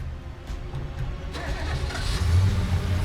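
A car engine turns over and catches, then rumbles and revs low as the vehicle pulls away, with a few faint knocks beforehand; the engine grows steadily louder and nearby.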